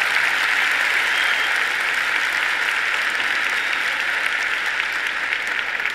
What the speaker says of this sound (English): yes, please do cheer them on.